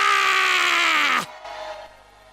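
Church congregation shouting together in a loud, sustained cry that breaks off sharply after about a second, leaving a quieter murmur and fading tail behind.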